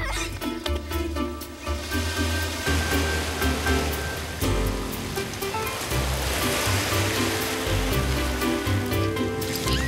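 Waves breaking on a pebbly island beach, a continuous loud wash of surf with a rushing roar that swells and recedes, with no voices.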